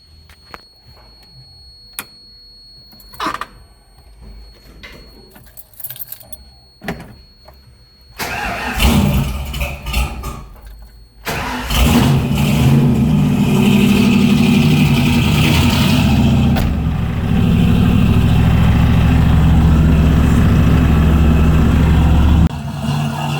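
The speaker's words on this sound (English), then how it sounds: "Let's go drive this thing around and let the thermostat open" A mini truck's engine is cranked several times amid clanks and clicks, then catches and idles loudly, holding a steady rumbling run close by with a slight rise in revs.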